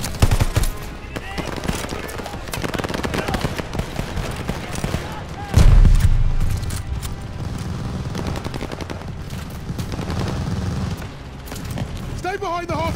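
Sustained machine gun fire with bursts and a heavy boom in a Call of Duty Vanguard battle near half-tracks, dense and loud throughout, with soldiers shouting over it.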